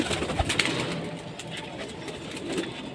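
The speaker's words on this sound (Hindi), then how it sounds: "बहुत ज़िद्दी कबूतर हैं ये दोनों।" Two pigeons perched up high give low, throaty coos that are faint and intermittent beneath a broad, steady outdoor noise.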